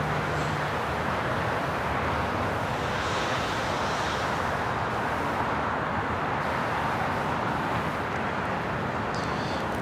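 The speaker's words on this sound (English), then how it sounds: "747-8 heading back to Frankfurt" Boeing 747-8 jet at Los Angeles International Airport heading out toward Frankfurt, a continuous broadband engine roar holding steady and fairly loud throughout, without talk.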